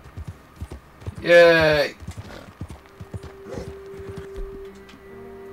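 Horse hooves in the Red Dead Redemption 2 video game clop steadily throughout, with a loud whinny early on and a brief excited voice over the hoofbeats.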